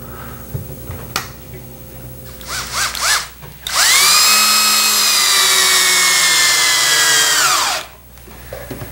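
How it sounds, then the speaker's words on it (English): A power drill drilling pilot holes in hardwood spins up with a high, loud whine and holds steady for several seconds before winding down, after a few brief tool knocks. "in hardwood I still like to drill pilot holes and countersink"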